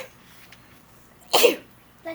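A single sharp sneeze bursts out loudly, followed by a brief vocal sound; the rest is quiet room tone.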